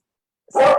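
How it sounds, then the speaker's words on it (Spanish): Several dogs barking at home, a short loud burst that starts abruptly after near silence and stays close and steady to the end. "perdón por mis perros"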